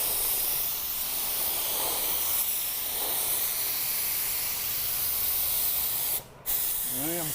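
A paint spray gun fed by a small Harbor Freight compressor at 120 psi hisses continuously while spraying a coat on a car, a steady close airy rush with a brief break near the end.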